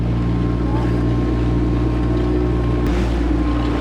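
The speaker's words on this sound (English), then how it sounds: "Water's a little bit more choppy than what we had expected, but it's very manageable in this boat anyway" A steady, loud engine drone with rushing wind and water noise, as of a motorboat running across choppy sea water off the Costa Blanca.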